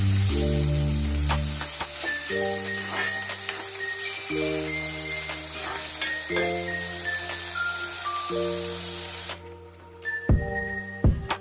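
Onions sauté in a pan for a chicken recipe, a loud, close, continuous sizzle with faint stirring scrapes over background music. The frying hiss drops away near the end.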